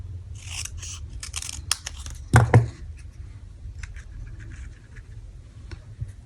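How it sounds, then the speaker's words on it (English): Scissors cut paper for a paper craft project with a series of close, crisp snips, including a louder double snip partway through, then lighter trimming cuts. "I'm going to cut it down even a little bit more."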